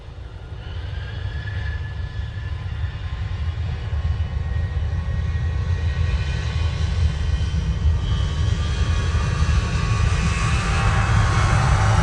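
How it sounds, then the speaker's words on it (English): An Aer Lingus Airbus A380 from Dublin arrives at Manchester Airport, its engines a loud, steady roar that slowly builds over twelve seconds without a break. "It's Aer Lingus coming from Dublin using the A380."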